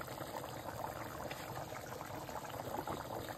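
Chicken curry boils and foams in a pot, a soft continuous bubbling and gurgling held at a steady low level with no voices.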